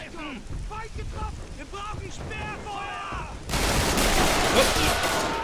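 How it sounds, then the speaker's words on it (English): Gunfire in the WWII strategy game Men of War Assault Squad 2, breaking out suddenly as a loud dense barrage after a stretch of voices talking and shouting in the battlefield. "Now they're opening fire."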